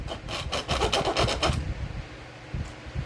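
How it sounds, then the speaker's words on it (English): Hacksaw blade rasping a notch into the end of a bamboo arrow shaft, a run of quick, close back-and-forth strokes for about a second and a half before the cutting stops, leaving only faint handling noise. "you're going to get in the middle and you're going to saw a notch"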